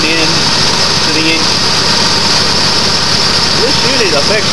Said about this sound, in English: This unit affects the idle of the engine when it's running